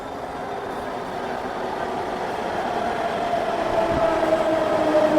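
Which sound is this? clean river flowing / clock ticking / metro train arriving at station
metro train arriving at station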